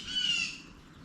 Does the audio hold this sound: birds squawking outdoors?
yes